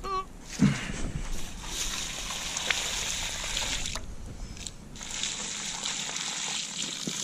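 Water gushes and splashes during a rinse, a steady running wash with a few sharper splashes. A voice talks briefly near the start.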